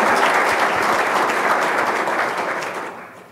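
A room of audience members at an Arizona business talk claps steadily to welcome a speaker, a full, even applause that fades out over the last second.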